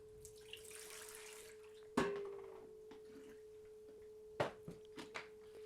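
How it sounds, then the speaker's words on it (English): Water rinsing C41-developed Kodak Vision3 500T film inside a home developing tank as the remjet backing washes off: a steady hiss of running water over a constant low hum, broken by a few sharp knocks and clunks. "then straight in with the water, and this is when the majority of the Remjet actually comes off"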